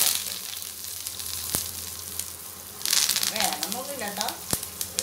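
A couple of sprigs of curry leaves frying in hot oil as a garnish, a bright crackling sizzle that swells midway with bursts of spattering, close up, while a voice speaks briefly over it.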